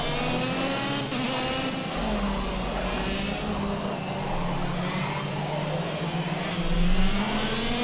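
Go-kart engine in the racing game Project Cars, a steady high-pitched buzzing whine that rises and falls in pitch as the kart is driven, continuous throughout with no talking.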